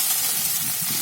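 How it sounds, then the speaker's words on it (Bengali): Chow mein stir-fries in a hot pan, giving a steady hiss and sizzle for about a second with no talk. "এবার কিছুক্ষণ ভালো করে নাড়াচাড়া করে ভেজে তারপর আমি নামিয়ে নেব।"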